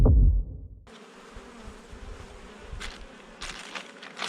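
Honeybees buzz steadily over an open beehive during hive treatment, a dense continuous drone close by, with a brief loud handling bump at the start and a few louder swells as bees pass near.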